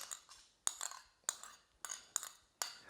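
Light clinks of diced cucumber and utensil tapping against a bowl of crab, several quiet separate ticks spaced about half a second apart.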